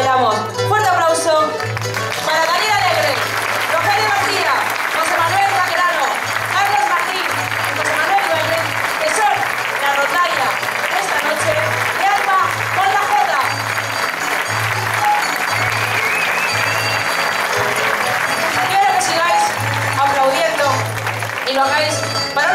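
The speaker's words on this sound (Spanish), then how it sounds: "¡Fuerte aplauso!" Loud, sustained audience applause for the musicians at a jota folk dance festival in Sagunto, Valencia, with a steady pulsing low beat running under the clapping and crowd noise.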